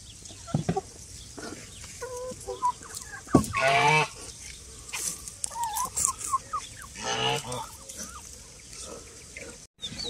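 Chickens, turkeys and other farm birds in a countryside farmyard, a mix of clucks, gobbles and squawks at varying distances, with bursts of louder calls.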